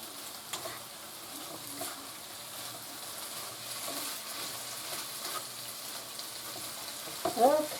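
Curry-coated chicken pieces are stirred and tossed in a hot pan for pineapple chicken, a quiet continuous sizzle with soft scraping, ending in a brief louder clatter of the utensil.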